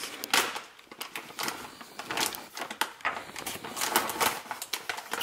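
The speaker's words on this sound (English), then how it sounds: "So you're just gonna stir this up until it dissolves." Brown sugar mixture stirred with a spatula to dissolve it for homemade boba, making quiet, irregular scraping and tapping strokes in quick succession, with no talking.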